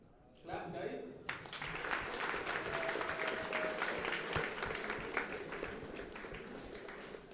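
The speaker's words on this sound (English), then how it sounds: "Claps, guys." A hackathon audience breaks into sustained clapping that starts abruptly and holds steady, a dense patter of many hands with no voices standing out.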